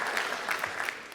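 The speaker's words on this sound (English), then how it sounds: "Give them a round of applause." Brief, steady applause from an audience at a science talk, fairly loud and continuous throughout the short moment.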